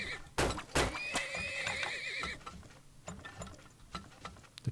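A horse whinnies in the strategy game Turmoil, a rising and falling neigh lasting about a second, set among clicking ratchet and gear-like mechanical game sounds and sharp clacks.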